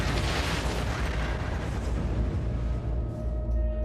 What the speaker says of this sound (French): une énorme explosion a fait trembler la Terre sur des kilomètres à la ronde.